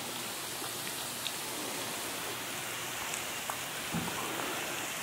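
Water spray applied to an exterior wall system at about 5 gallons per square foot per hour to simulate heavy rain, a steady dense hiss of falling water throughout with a few faint drips and taps, no talking.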